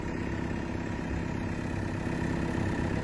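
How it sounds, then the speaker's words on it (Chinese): An excavator's diesel engine runs as the operator raises the boom. It gives a steady, loud, low rumble with constant vibration from close by, and no speech is heard over it. "先把大臂稍微提一提，"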